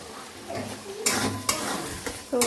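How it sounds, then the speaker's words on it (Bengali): Onions fry in oil with cardamom, cinnamon and bay leaf, a low sizzle broken by several sharp scrapes and clinks of a spoon stirring the pan. "বেরেস্তার মতো করে ভাজবো।"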